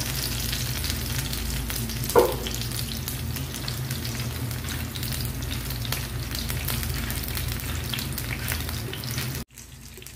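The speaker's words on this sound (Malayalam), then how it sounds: "അത്യാവശ്യം നല്ല ഫ്ലെയിമിലിട്ട് തന്നെ നമുക്കിത് ചുട്ടെടുക്കാം" Tomatoes, garlic, ginger and dried chilies roast over a high flame with a constant low crackling sizzle and a rumbling burner hum, one sharp clink near the start and an abrupt cut at the end.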